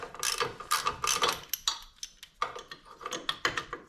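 A ratchet clicks in quick, close bursts while backing out the Allen head cap screw motor mount bolts on a Harley-Davidson Dyna, with short pauses between runs of clicks.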